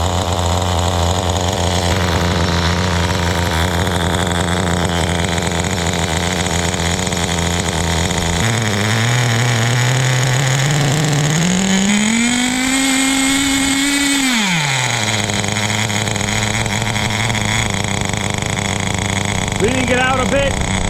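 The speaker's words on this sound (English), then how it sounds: "knowing that a 25-year-old vintage engine is running" Vintage 25-year-old nitro engine in a Kyosho Super Ten RC car runs continuously and loudly up close, a steady buzzing drone whose pitch climbs mid-run as it revs up, holds briefly, then drops back to idle.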